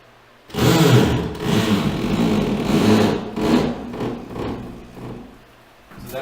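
A drywall screw is driven into a wooden stud in one continuous grinding, whirring burst lasting several seconds, close and fairly loud, then trailing off.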